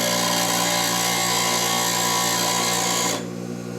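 A bench grinder fitted with a Wolverine jig hones a chucking scraper for bowl turning, giving a loud steady motor whine with gritty grinding over the top, which stops abruptly, leaving the wheel humming as it spins down.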